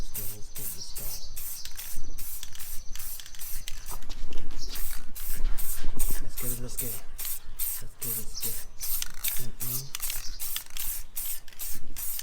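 Spray paint can coating car wheels, heard as steady close hissing bursts with rattling and scraping between them, repeating throughout.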